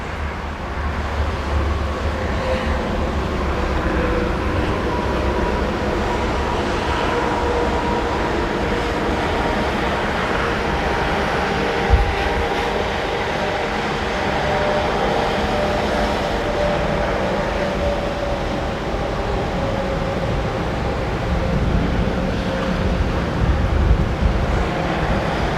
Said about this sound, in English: The wind is starting to pick up a little bit